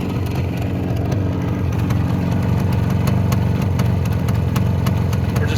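A 1974 Suzuki T500 Titan motorcycle engine idles steadily and close by, a continuous low rumble with faint irregular ticking, heard alone without talk.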